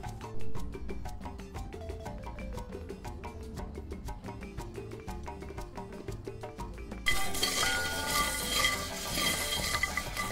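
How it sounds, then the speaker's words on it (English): Cocoa beans rattle and scrape in a pot as they fry, with rhythmic clinks of stirring, then a louder sizzling, crackling wash takes over near the end. "Presently I've been frying this for about 15 minutes."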